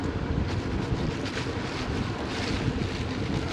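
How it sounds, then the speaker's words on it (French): Wind buffeting a microphone while cycling on a hot road in southern France, a steady rumbling roar with gusty surges and no voices. "il y a du vent en fait"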